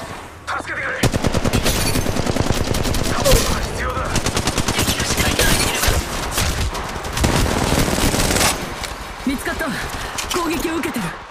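Rapid automatic gunfire crackles almost without a break through a firefight in the mobile shooter Apex Legends Mobile, loud and dense, with game voices calling out over the shooting.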